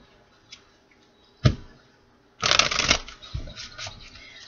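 A deck of tarot cards being shuffled close up: a short riffle, then a longer burst of rapid flicking and a few softer taps as the cards settle.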